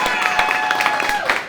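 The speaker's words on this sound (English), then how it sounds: "Oh, yeah, clap for them" An audience at a live improv comedy show claps for the cast, a dense and steady patter of applause with a thin sustained tone running underneath.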